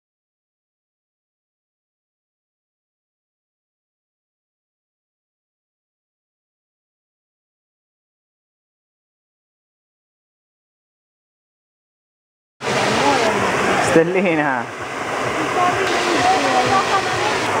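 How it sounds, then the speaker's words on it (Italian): Warm spa pool with massaging water jets and artificial waterfalls, a loud steady rush of splashing water starting abruptly after long silence and continuing to the end, with a voice speaking over it. "Spero si riesca a sentire qualcosa con le cascate dietro."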